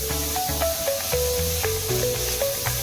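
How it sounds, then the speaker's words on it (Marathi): Chopped onions roasting in a pan for Maharashtrian misal, a steady spraying sizzle under background music, continuous and fairly loud. "तर कांदे भाजून घेऊया छान."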